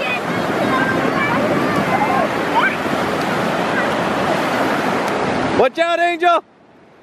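Ocean surf washing up on a beach, a steady broadband rush of waves and wind filling most of the clip before cutting off, with a child calling out briefly near the end.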